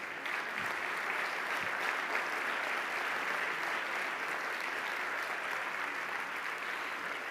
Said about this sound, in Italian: Ecco l'applauso.